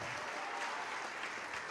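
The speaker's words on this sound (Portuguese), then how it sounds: "Vamos aplaudir mais." A church congregation at a worship service applauds in a brief, steady burst of clapping that sounds moderately distant and quiet.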